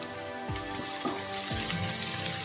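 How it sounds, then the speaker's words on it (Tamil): Onions and curry leaves sautéing in a pan for a village-style dried fish curry (karuvattu kuzhambu) give a steady close sizzle, with faint tonal sounds drifting underneath. "வெங்காயம் வதங்கிட்டு இருக்கு"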